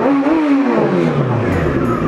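A motorcycle engine gives a single loud, close rev that climbs and then winds back down over about two seconds.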